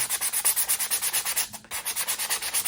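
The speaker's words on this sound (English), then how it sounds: "So I'm going to start with a 220 sandpaper." Soft deck planking is hand-sanded with 220 grit sandpaper in quick, even back-and-forth strokes, a close rhythmic rasping that pauses briefly midway before resuming, with no voices.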